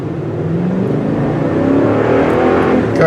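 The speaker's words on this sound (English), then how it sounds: "In spite of the hefty weight, this engine still pulls strong." A 2018 Toyota Sequoia TRD engine pulls hard under acceleration, a steady loud drone that rises slightly in pitch and strength over a few seconds, heard from inside the heavy SUV with no talking.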